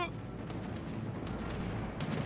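Naval guns firing from the Japanese ship Myogi in World of Warships: a few sharp, brief booming shots over a constant low rumble of sea and engine.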